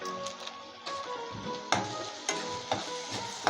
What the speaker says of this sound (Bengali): আমি এবার এটাকে কষিয়ে নেব।